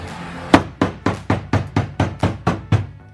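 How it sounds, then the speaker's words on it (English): A body hammer strikes a Lexus LS 400's car bodywork in nine sharp, evenly spaced metallic blows, loud and close, with no talking. "Down here we call this a body hammer."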